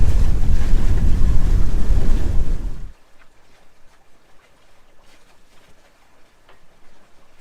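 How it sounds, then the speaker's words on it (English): A strong gust of wind buffets a sailboat under way, roaring loudly and close across the microphone for about three seconds. It then drops off abruptly to a faint background of water and light breeze. "And just like that, we got a big gust, allows us to cheat back over to starboard."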